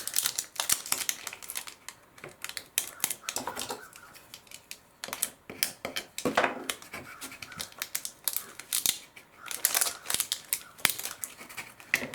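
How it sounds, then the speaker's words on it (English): A scraper works over vinyl transfer tape on a Halloween sign, making close, dry scratching and crinkling strokes in uneven bursts. Some passes sound harder than others, and no one speaks. "just pull it back slowly and at a very severe angle. And if anything starts lifting, just give it a little bit more of a scrape"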